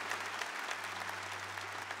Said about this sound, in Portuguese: Vamos aplaudir a canção nova